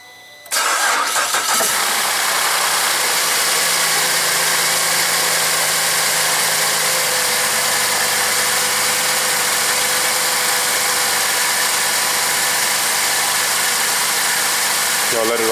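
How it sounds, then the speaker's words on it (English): A VE Commodore car engine cranks briefly, catches, and settles into a loud, steady idle heard up close. "I'll just run the car and see if it gets to the hot section"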